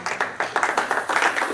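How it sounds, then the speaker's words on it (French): A congregation at a church service claps in rhythmic unison, with brisk evenly spaced hand claps that sound moderately close and fill the room. "Donnez le véritable acclamation"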